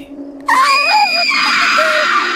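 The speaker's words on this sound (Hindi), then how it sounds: "शिवानी जोर से चिल्लाई" A woman's loud, sustained scream in a Hindi horror story bursts in suddenly after a brief quiet moment and holds at full strength to the end, wavering in pitch.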